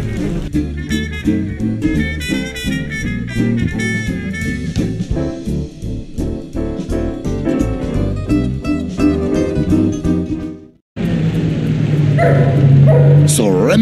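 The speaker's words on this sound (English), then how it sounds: "beware of the dogs. Dogs!" Dogs in a Paris courtyard in an animated film bark and yip repeatedly, loud and close, with whimpers mixed in over busy music and voices. The sound drops out briefly near the end before the noise picks up again.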